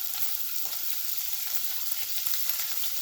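Matar paneer ingredients frying in a pan make a continuous close sizzle and crackle with small bursts, and no voice is heard.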